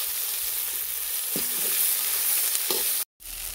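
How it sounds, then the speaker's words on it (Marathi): Onion and tomato frying in a pan for chicken dum biryani cooked on a wood-fired clay stove: a steady close hiss of sizzling oil with a couple of soft stirring knocks, cut briefly by a gap near the end. "आता आपण बिर्याणीसाठी कांदा भाजून घेणार आहोत. त्याच कांद्यामध्ये टोमॅटो भाजून घेणार आहे."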